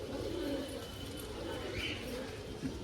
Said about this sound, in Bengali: পায়রাগুলো অনেক অ্যাক্টিভ পায়রা